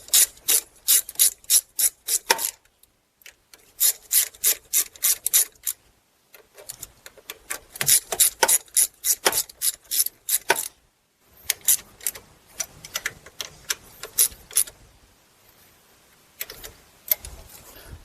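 Rapid bursts of ratchet clicking as high pressure fuel pump bolts on a GM 2.4 Ecotec engine are tightened, close and crisp, in repeated runs separated by short pauses, with no talking.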